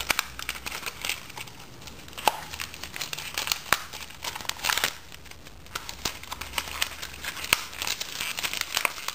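A spare toilet paper roll's wrapping is crinkled and torn open close by, a long run of sharp papery crackles and rips in irregular bursts, with no one talking.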